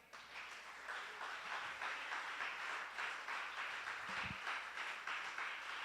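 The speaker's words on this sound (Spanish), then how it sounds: "Dele un aplauso al Señor." Steady applause from a large church congregation, a dense wash of clapping that holds at an even level for several seconds with no voices on top.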